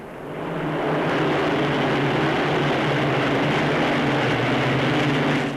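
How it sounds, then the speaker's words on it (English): Avro Lincoln bombers of Bomber Command fly over an airfield at a 1953 RAF coronation review, a steady, loud droning roar of piston engines that swells in and holds, with no speech. "Now Valettas fly over the airfield. Lincolns of Bomber Command."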